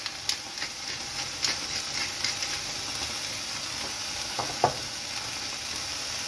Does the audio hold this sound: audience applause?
no